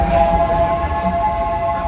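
A steady rumbling run with a sustained tonal whine on top, the Disneyland Railroad train rolling along rails, continuous and fairly loud throughout.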